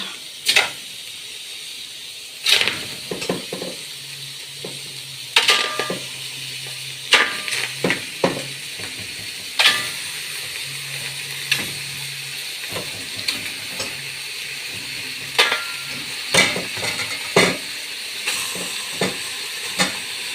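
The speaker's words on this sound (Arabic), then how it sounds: "نحط اللحمة تتشوح" Meat sears in a hot pan for Egyptian fatteh with vinegar and garlic, a continuous close hiss and sizzle broken by repeated sharp clinks and scrapes of stirring, with no talking.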